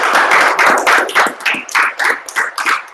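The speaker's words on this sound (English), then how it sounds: "Let's give our speaker a round of applause." A small audience at a talk on pyrotechnic whistle physics gives a brief round of applause: sparse, separate hand claps close to the microphone, a few seconds long.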